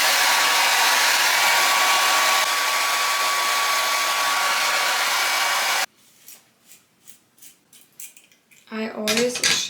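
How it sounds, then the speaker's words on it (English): A hair dryer blowing on hair runs as a loud, steady close whoosh for several seconds, then cuts off, followed by light handling clatter and brief talking. "So I'm gonna blow dry my hair real quick"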